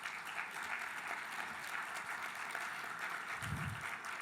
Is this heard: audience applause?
yes